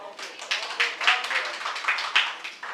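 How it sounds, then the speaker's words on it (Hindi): Audience claps at a poetry and storytelling performance: a fairly close run of quick, uneven claps that rise and fall in loudness for a few seconds. "बात समझ में आई हो तो बजाएं ताली"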